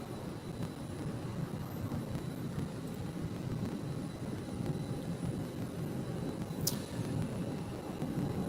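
United airliner jet at Phoenix airport produces a steady, distant engine roar and rumble, fairly faint, with no talk.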